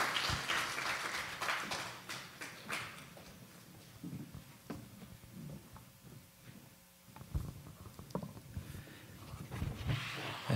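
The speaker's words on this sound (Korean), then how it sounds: "자, 박수 한번 해주세요." Church congregation applauding during a Sunday service, a broad wash of clapping hands filling the room, swelling and fading across the stretch with scattered louder bursts.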